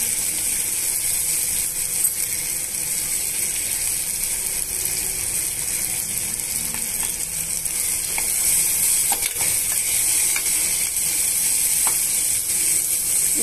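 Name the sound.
tempering with curry leaves sizzling in pressure cooker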